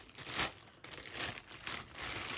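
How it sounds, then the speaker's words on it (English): A plastic bag crinkles and rustles close by as a fishing reel is unpacked, with several uneven bursts of crackling handling noise and no talking. "Comes in the plastic bag."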